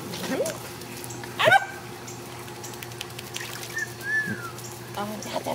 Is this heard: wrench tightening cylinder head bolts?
no